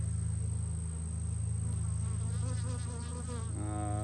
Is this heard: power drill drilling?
no